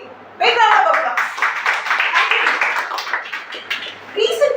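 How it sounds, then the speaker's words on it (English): A small group at a Toastmasters club meeting claps in a brief, uneven burst that fades toward the end, with voices heard alongside the clapping. "Big round of applause."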